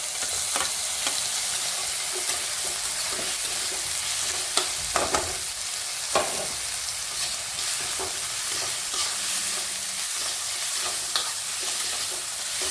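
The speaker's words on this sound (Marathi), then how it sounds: "ती 2 मिनिटं परतून घ्यायची छान। लगेचच टोमॅटो टाकूया।" Tur bean usal with tomatoes, green chilli and paste sautés in a pan, giving a steady sizzle broken by frequent scraping stir strokes, close and continuous with no speech.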